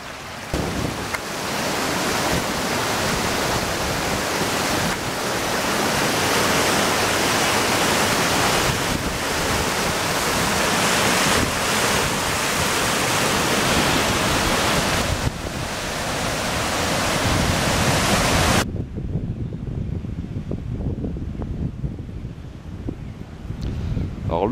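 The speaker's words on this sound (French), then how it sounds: "Agrémenté de ruisseaux et tout, c'est joli." Mountain streams run beside a hiking trail heading up a valley toward a refuge in the Alps, giving a steady, loud rushing wash of water that continues unbroken before cutting off near the end, with no voices.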